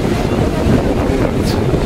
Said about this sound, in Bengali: সমুদ্রের একটা আওয়াজ।